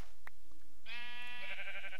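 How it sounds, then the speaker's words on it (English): A Minecraft sheep gives one clear, wavering bleat that starts abruptly and holds for about a second, loud and close, after a few faint clicks. "you sheep are so beautiful to me"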